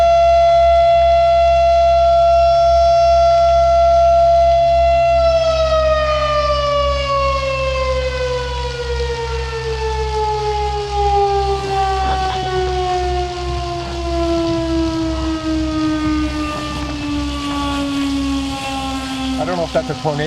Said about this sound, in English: I don't know if that's a tornado warning or what that is